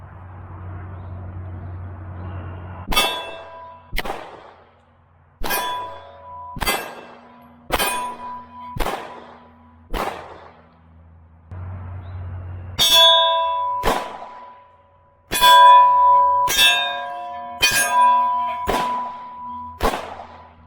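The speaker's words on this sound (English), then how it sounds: "we're going to do another round of the withdrawing from the holster and firing, and then we'll do some mag swaps" Springfield XDS 9mm pistol shots with rounds ringing off steel targets, a series of sharp cracks each followed by a bright metallic clang, fired in two strings with a pause between and a low hum at the start.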